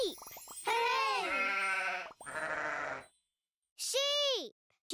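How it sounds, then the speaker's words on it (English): Sheep bleat in several loud, wavering calls close by, with short pauses between them. "Sheep. Sheep. Sheep."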